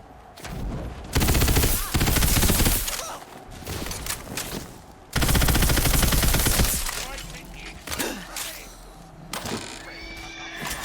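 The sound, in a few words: submachine gun firing in Tiny Tina's Wonderlands video game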